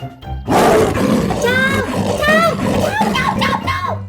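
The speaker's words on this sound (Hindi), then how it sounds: "टूनी शेर बनकर शिकारी के पास जाती है और जोर से दहाड़ती है।" A cartoon character roars loudly like a lion to frighten a hunter. The roar is loud and sustained and sits over music and other animated sound effects.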